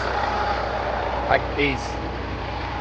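A Prevost H3-41 tour bus engine runs at high idle, a steady droning rumble close by, with brief clanks and a short burst of talk partway through.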